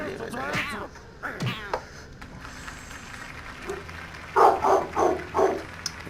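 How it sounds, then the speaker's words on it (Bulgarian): A dog barks in a series of four quick, sharp barks near the end, after a few earlier yelps and whines, with faint room noise in between and no talking. "кучето ми просто лае по не знам аз по какво"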